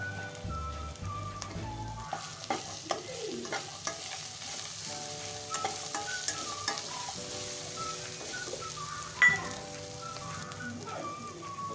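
Green peas frying in a pan with spices, a quiet continuous sizzle broken by scraping stirs and light clatter, no one talking.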